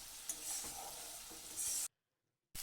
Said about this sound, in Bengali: যতক্ষণ না তেল ছাড়ছে মশলাটাকে একটু কষিয়ে নেব